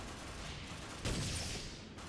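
Gunfire in the video game Ghost Recon Online during a fight on an oil rig: a muffled, steady wash of noise with one louder burst of shots midway that fades again, fairly quiet overall.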